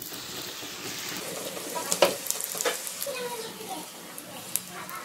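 Puri deep-frying in hot oil, a close continuous sizzle and bubbling with a few sharp spatters and pops as the dough puffs, while a person speaks quietly over it.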